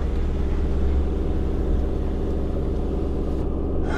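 A car engine laboring steadily up a steep, narrow gravel mountain road in the High Atlas near Toubkal, Morocco, a loud continuous low rumble held in one gear throughout.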